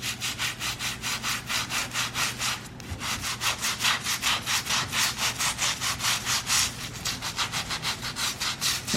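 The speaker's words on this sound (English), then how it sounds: "And give it a little scrub." A broom scrubs a floor in steady back-and-forth strokes, a rhythmic rasping swish repeating roughly twice a second, close and fairly loud with no talk.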